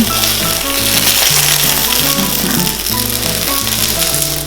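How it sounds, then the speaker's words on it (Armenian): Pepper fries in a pan, turned onto its other side, with a steady, bright sizzle and crackle throughout. A melodic tune plays underneath the frying. "Պղպեղը, որ հակառակ կողմի վրա եմ տապակում"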